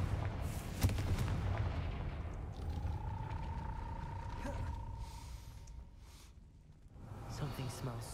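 A Confringo spell goes off in Hogwarts Legacy as a rumbling, booming blast with a long tail, followed by a thin whistling tone and a softer thud, while game background sound continues underneath.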